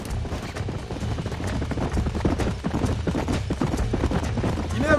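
Steady rapid clip-clop of horse hooves at a gallop, continuous and fairly close, with game sounds mixed in, in the video game Red Dead Redemption.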